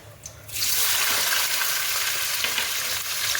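Chopped onions frying in oil for a chicken dish: a steady, loud broadband sizzle that starts abruptly and holds without a break, with no talking.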